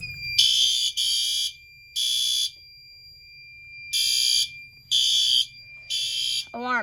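A fire alarm set off by a pull station sounds in loud repeated electronic blasts with short gaps between them, and a brief rising chirp near the end.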